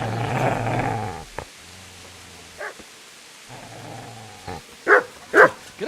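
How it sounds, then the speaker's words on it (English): A dog in the video game Kingdom Come Deliverance gives a low, rumbling growl up close, then a few short breaths and snarls, ending with several sharp, loud barks spaced about half a second apart. "Get away, you mutt!"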